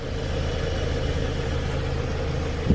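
A Subaru engine idles steadily while warming up, a continuous low rumble with an even mechanical hum, close and alone with no talking.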